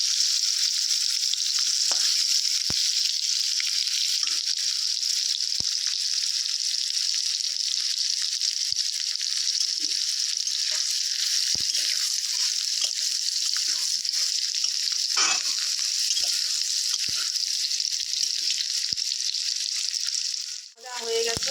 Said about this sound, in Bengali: ভাজা ফুলকপিটা ভাজছি, একটু গোল্ডেন ব্রাউন করে ভেজে নেবো আর কি।